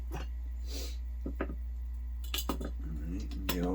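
Small metal RC truck parts from a TRX4M build dropped into a little dish, giving a few light clinks and rattles, near and quiet, separated by pauses with faint handling noise.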